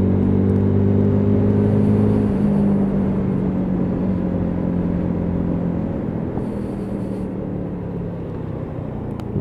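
A Lexmoto LS-Z motorcycle with upside-down forks climbs a hill, its engine droning steadily up close with a shift in pitch early on and a sustained rumble that eases slightly toward the end.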